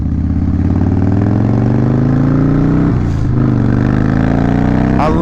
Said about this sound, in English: I love the sound of that exhaust. It has the Vance and Hines